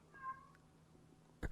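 A house cat yells in distress: a single faint, drawn-out meow early on, then quiet room tone and a brief thump near the end.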